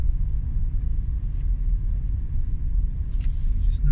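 A car driving along a road and easing off its speed, a steady low engine and tyre rumble heard from inside the cabin, with a couple of faint brief clicks near the end.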